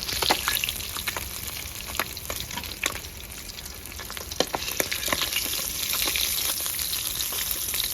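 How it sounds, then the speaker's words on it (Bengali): Small fish fry crisp in hot oil in a village kitchen, a loud, continuous close-up sizzle dotted with sharp crackles and pops, with no talking. "কড়া করে ভাজা হয়ে গেছে মাছ।"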